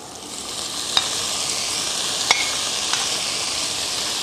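Lotus root shoots stir-fried with char siu in a wok give a steady, close sizzle, broken by a few sharp clinks of the spatula against the metal.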